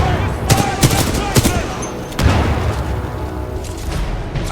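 Supporting gunfire from a Titan in the video game Titanfall 2: sharp, loud shots and booming bursts arrive in uneven clusters over a constant rumbling battle din, with a heavier blast at the midpoint.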